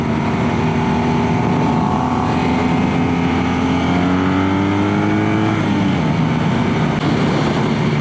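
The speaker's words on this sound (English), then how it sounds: "The exhaust sounds good. It's not too quiet." A BMW R nineT Racer motorcycle's slightly raspy exhaust while riding: a loud, continuous engine drone that climbs in pitch as it accelerates, shifts down, then rises again, with wind rush throughout.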